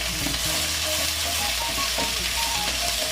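Crushed small shallots sautéing in hot oil in a pan for a Kerala beef roast, a steady close sizzle and crackle with a few faint stirring scrapes and no voices.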